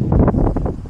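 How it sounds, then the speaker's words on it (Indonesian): Strong wind buffeting a microphone outdoors at a drone flying field, a brief loud rumbling gust with no voices. "kencang banget ya angin, beneran."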